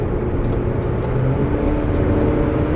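A 2009 Hyundai Grandeur TG Q270 large sedan accelerating on the road around 70 km/h, heard as a steady low cabin hum of engine and road noise, without any talking.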